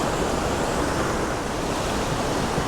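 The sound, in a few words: waterfall on Tokul Creek, Washington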